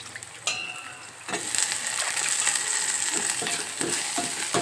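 Gongura leaves and peanuts fry in a pan with a steady sizzle. Stirring scrapes and clinks join in as the frying grows louder partway through, up close with no voices.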